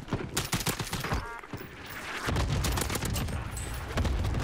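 Rapid bursts of gunfire crack through a Call of Duty Warzone match, followed by a dense, rumbling chain of cluster strike explosions that roll on for several seconds, loud and close.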